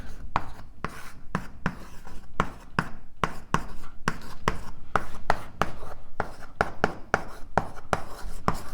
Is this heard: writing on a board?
yes